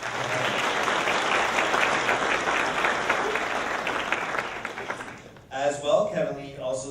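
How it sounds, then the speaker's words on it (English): A graduation ceremony crowd gives a round of applause, a dense, sustained clapping that fades out before a voice begins speaking. "but we will give him a round of applause anyway."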